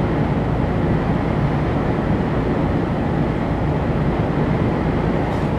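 A long-haul truck drives along the road toward Langenhagen, heard as a loud, steady, broadband engine and road rumble that never lets up.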